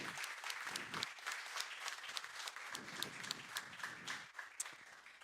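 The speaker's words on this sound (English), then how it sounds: "So round of applause for our graduates." An audience applauds graduates at a ceremony, sustained dense clapping filling the whole stretch at steady loudness with a few sharper claps standing out.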